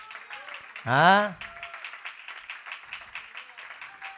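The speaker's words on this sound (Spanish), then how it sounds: "Tenemos que ser águilas, darle palmas al Señor" Church congregation clapping for the Lord in steady, rhythmic unison beats throughout, with a brief loud vocal exclamation near the start.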